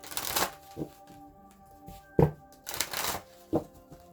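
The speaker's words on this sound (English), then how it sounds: "let me get one more card from here" Tarot cards being shuffled and drawn, quick riffling bursts and soft card slaps in a quiet room, close and fairly faint, no talk.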